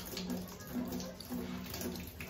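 Tap water runs into a sink while hands are rinsed during a medical hand-washing demonstration, a soft continuous splash with faint rising and falling wash strokes throughout.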